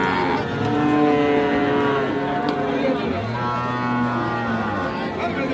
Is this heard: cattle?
yes